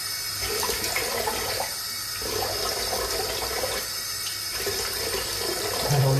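Running water rinses steadily under a tap while cleaning a wheel set, a loud, close, continuous splash with slight surges.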